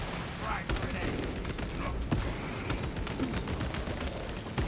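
Rapid automatic gunfire from an auto bolt rifle fired from the hip in the Space Marine video game, dense and continuous throughout under a layer of game noise and talk.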